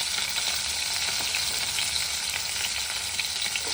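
Fish frying in oil in a pan in a home Bengali kitchen, a steady, dense sizzle and crackle that holds evenly close by with no talk over it.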